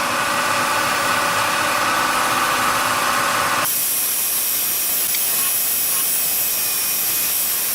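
Wood lathe spinning a carrot wood vessel at about 1200 RPM, a loud steady whirring hiss with a constant tonal whine that drops in pitch partway through, no talking.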